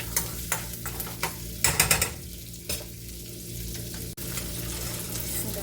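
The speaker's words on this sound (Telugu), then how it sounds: "ఫస్ట్ ఇందులోనే ఈ విధంగా వేయించుకోవాలి" Garlic frying for a ridge gourd curry, a steady sizzle with soft stirring taps and a few louder clinks of a spoon against the pan, close and continuous throughout.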